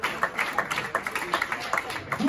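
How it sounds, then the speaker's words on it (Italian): A crowd of basketball fans applauding the team captain during a player introduction, rhythmic clapping in a steady beat beneath an announcer's amplified voice. "Un applauso al nostro capitano, The Doctor."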